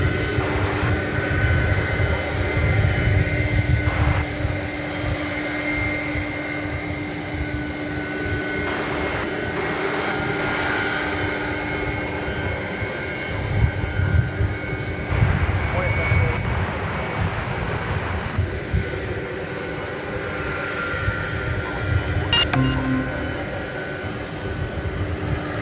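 An airliner accelerates down runway 17 right at Dallas Fort Worth airport, a steady, distant engine roar that holds for the full length, with people talking over it at times.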